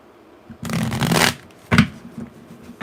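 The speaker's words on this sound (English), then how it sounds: "didn't want me to shuffle them damn cards. They're plastic" Plastic tarot cards being shuffled, a sustained riffling burst lasting under a second followed by a shorter second shuffle and a few soft taps, close and fairly loud with no talk.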